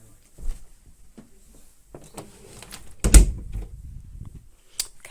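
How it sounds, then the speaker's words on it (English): A door is swung shut nearby, a firm thud with a brief rattle standing out among quieter shuffling and handling noises. "I'm going to close the door."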